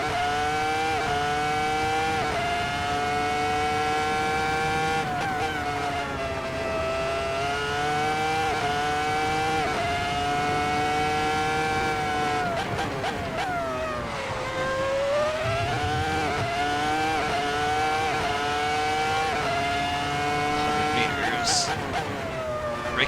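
Ferrari F2004 Formula One car engine in a racing video game, screaming at high revs throughout with rising and falling pitch through gear changes and corners, a brief tyre squeal, loud and continuous.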